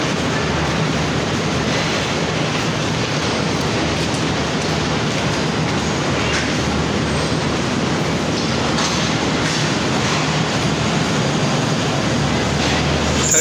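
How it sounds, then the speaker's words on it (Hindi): Subak Raftar Express 101UP passenger train at a platform of Lahore station, with a steady loud rumble of rail cars and engine noise that continues throughout, no talking. "101 सबक रफ्तार एक्सप्रेस, जो प्लेटफार्म नंबर 5 पे लगी है।"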